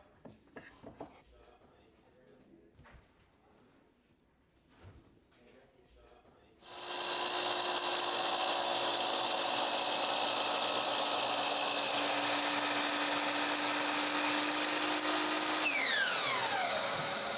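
A miter saw cuts wood trim, starting with a loud, sudden whine after a few quiet moments of handling and light knocks, then running steadily close by before the blade spins down.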